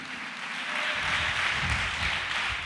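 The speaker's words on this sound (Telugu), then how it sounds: "గట్టిగా చప్పట్లు కొట్టి ప్రభుని స్తుతించండి" A church congregation at Hosanna Mandir in Tirupati claps loudly in praise, a dense, sustained wash of many hands that swells after the first second and keeps going steadily.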